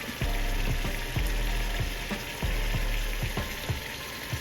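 Close, continuous sizzling and crackling of pork searing in hot oil in a pressure cooker, with scattered sharp pops and spits.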